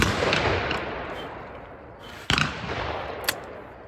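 A single loud blast from an LC Smith Field Grade 16 gauge double-barrel shotgun fired outdoors, a sharp crack followed by a brief rolling echo, standing out against steady wind and background noise.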